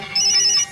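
A telephone ringtone sounds as one short, loud electronic trill, steady and clear for about half a second against a quiet background.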